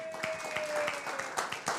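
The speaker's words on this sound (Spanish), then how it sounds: "un aplauso al Señor" A church congregation claps during a Spanish-language sermon: short, scattered claps over a steady background tone.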